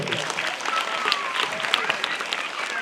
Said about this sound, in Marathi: एकदा जोरदार टाळ्या आपल्या शिक्षकांसाठी